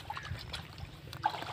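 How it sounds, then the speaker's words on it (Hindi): Water trickles and splashes softly as a man washes his feet, a faint, steady outdoor flow with small irregular splashes and no talk. "ये देखो अब ये पैर धो रहा है"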